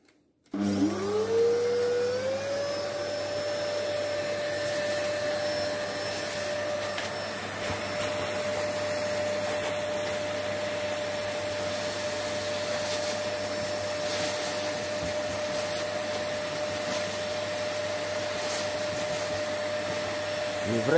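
Vacuum cleaner with a soft brush attachment running steadily over an old guitar's lacquered body, starting up sharply with a rising whine that settles into a loud, continuous drone for the whole stretch.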